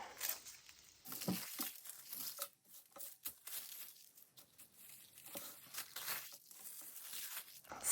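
Paper journal layers, slashed to a raggedy texture with lace and fabric, are cut apart in a close series of irregular crisp snips, rustles and tearing crinkles, fairly quiet with no speech.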